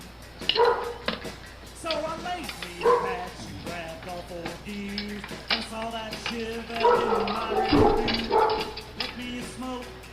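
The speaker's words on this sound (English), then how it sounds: "dog knows I'm down here in the basement" A dog barks repeatedly in short, muffled bursts from upstairs, heard from a basement, with someone talking intermittently underneath.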